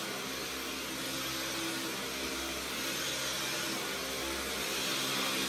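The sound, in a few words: vacuum cleaner running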